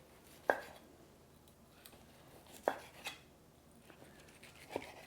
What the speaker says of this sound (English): I think it's safe to cut into this steak.